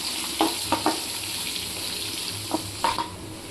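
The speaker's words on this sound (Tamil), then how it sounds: "இப்போ வந்து நம்ம சின்ன வெங்காயம் வந்துட்டு நல்லா பெருசாக நம்ம நறுக்கி போட்டிருக்கோம்." Chopped shallots frying in hot oil for a Tamil-style tempering in mushroom pepper gravy, a steady close sizzle with a few sharp crackles and stirring clinks, no talk.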